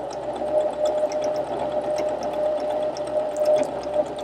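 A Husqvarna Viking Emerald 116 sewing machine stitching fabric, running in a steady continuous mechanical hum with a faint rhythmic whir throughout, no talking.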